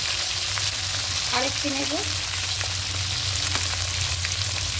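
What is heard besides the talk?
ginger garlic paste and tomato frying in pan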